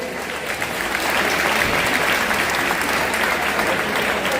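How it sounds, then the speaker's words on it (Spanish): Crowd applause at a Galician boxing event fills the hall, a dense steady roar of many hands that swells after the first second and holds loud throughout. "Fuerte el aplauso para él"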